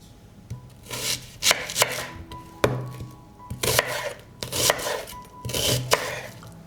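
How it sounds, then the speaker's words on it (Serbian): A knife chops an onion coarsely on a cutting board. Sharp, close chops come in irregular bursts of several strokes, each ending with a clear knock, with no talking. "Iseći ću krupnije jedan luk."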